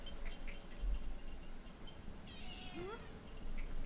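A pet cat named Trisha meows once, a rising, wavering cry heard faintly in a room, over steady background hum and soft game-like tones.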